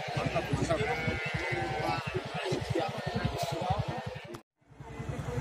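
Sheep bleating at a sheep market in Batur, repeated loud nearby bleats layered over one another amid crowd noise, with talking mixed in and a short drop to near silence near the end.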